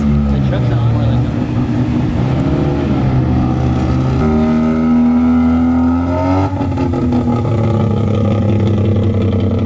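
A truck engine revs through a custom exhaust tip, a loud, steady low rumble that swells and shifts pitch, with people talking over it.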